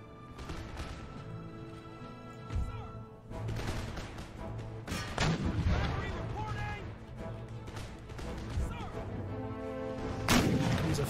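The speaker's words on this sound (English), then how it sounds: "Foot artillery regiments." Artillery fire in the battle game Empire: Total War comes as a series of booming shots at irregular intervals, layered over busy battle noise and game music.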